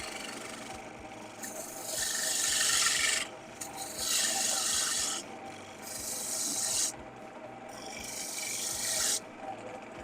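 A detail gouge cuts into spinning wood on a lathe, giving a loud, steady, hissing rasp in long passes of about two seconds with brief quieter gaps between them. No voices are heard.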